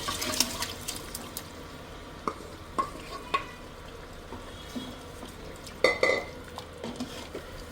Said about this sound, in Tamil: நம்ம மட்டன் வேவிச்சு வச்சுருக்கோம் இல்லைங்களா, அது போட்டுக்கலாம். அந்த தண்ணியோடு போட்டுக்குங்க.